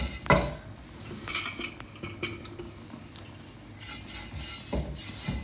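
Oil spread across a dosa pan with a spoon, irregular close metallic scrapes and light taps over a quiet kitchen background, with no voices.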